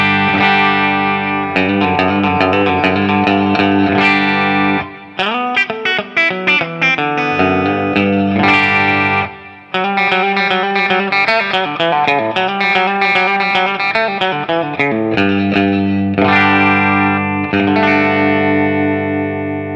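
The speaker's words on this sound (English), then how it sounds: "Let's start in the bridge pickup with just a few chords here." Electric guitar chords strummed on a Telecaster's bridge pickup fitted with a carbon fiber Holland replacement neck, bright and snappy with long sustain, several ringing chord changes played alone with short breaks between.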